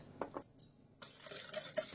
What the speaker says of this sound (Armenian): Լավ խառնում ենք